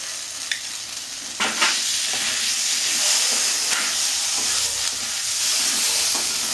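Potato and onion frying in a pan with chili powder and cumin paste, a continuous close sizzle and hiss with spatula stirring and scraping strokes at intervals, no voices.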